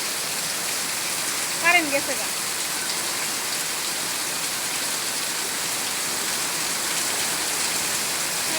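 Heavy rain pours down steadily, a dense loud wash of drops on surfaces that stays constant throughout, with a short spoken remark early on.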